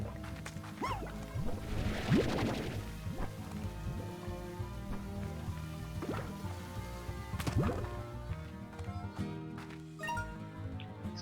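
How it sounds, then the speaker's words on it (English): A water spring flows in a cave in the video game Slime Rancher, a continuous gentle gurgling and trickling with scattered drips, held at a soft, even level under a low ambient game drone. "Oh, so here's a water spring."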